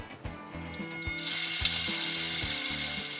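A sewing machine stitches fabric for a homemade green screen, a steady mechanical chugging with regular clicking beats and a rising hum as it speeds up, close and moderately loud.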